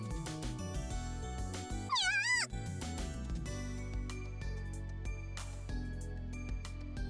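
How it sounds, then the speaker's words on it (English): In the Tokyo School Life video game, a short wavering cat meow sounds once over steady background music, clear but brief, with no talking. "A cat!"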